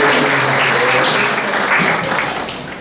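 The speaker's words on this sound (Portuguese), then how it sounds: "Uma salva de palmas aí para a nossa primeira participante." Audience clapping for the first participant at a beauty workshop, a dense burst of applause from a crowd indoors, loud at first and tapering toward the end.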